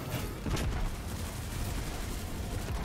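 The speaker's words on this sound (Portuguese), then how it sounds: "Tô atirando." Rapid gunfire from a Destiny 2 firefight, a dense continuous barrage of shots and booms with a sharper burst near the start, loud and steady throughout.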